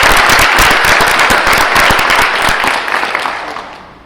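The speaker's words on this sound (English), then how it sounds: "Again, a round of applause." An audience at a high school branch ceremony and ribbon cutting claps loudly after a jazz band performance, a dense burst that gradually fades toward the end.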